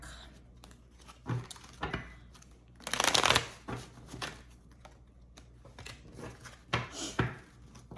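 A deck of tarot cards is shuffled by hand in a quiet room, giving a series of close, crisp riffling bursts with one long, dense flurry in the middle and short pauses between.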